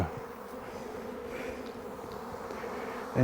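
Dense, continuous buzzing of a swarm of bees, close and steady throughout, with no voices.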